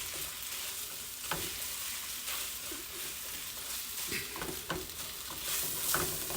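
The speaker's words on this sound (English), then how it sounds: "I'm going to go ahead and get my beef in here and get it all nice and separated." Marinated beef strips sizzle and fry steadily in a hot pan for beef and broccoli, with a constant crackling hiss broken by occasional stirring scrapes and clicks.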